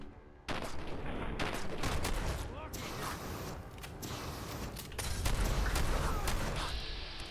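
Heavy gunfire in the Fallout 4 video game, a dense sustained barrage of rapid shots and booming impacts that runs almost unbroken after a sudden start, loud and close, with voices mixed in underneath.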